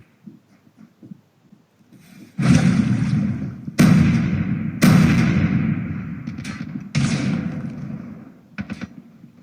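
A frag grenade blast in the Call of Duty Mobile shooter game, heard as a series of loud, sudden booming bursts with sharp onsets and fading tails amid other gunfire-like bangs, following a quiet stretch of soft breathing-like noise.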